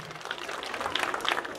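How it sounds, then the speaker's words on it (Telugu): Audience applause welcoming actress Honey at a live stage event in Udandapur, Telangana: a short burst of scattered, moderately loud clapping from a crowd, steady throughout with no talk over it. "ఒకసారి గట్టిగా చప్పట్లతో ఇన్వైట్ చేసేద్దాం మరి హుషారుగా చప్పట్లు అందరూ"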